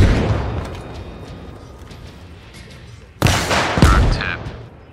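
Weapon fire on a BTR armored vehicle in the video game Arma Reforger: over a low rumbling battlefield bed, a sharp, loud blast hits near the end and is followed by a second heavy boom a moment later.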